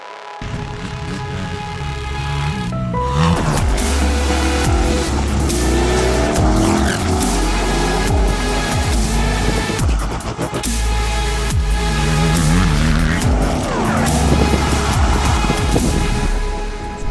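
A lowered car in a Las Vegas scene drives hard and revs loudly, its tires squealing and skidding in long screeches over a sustained roaring engine, close and alone with no talk.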